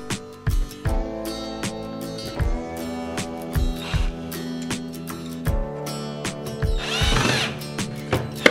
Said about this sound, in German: Ich befestige die Struktur der Rutsche mit Schrauben.